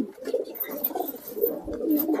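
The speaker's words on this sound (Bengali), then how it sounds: "আঘাতপ্রাপ্ত পায়রা এটা" An injured Napta high-flying pigeon coos softly in a repeated, throaty rhythm, several low rolling calls close by in a quiet setting with no talk.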